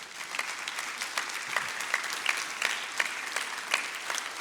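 A church congregation claps for the King of Glory during a sermon, a steady wash of applause from many hands, moderately loud and sustained without voices standing out.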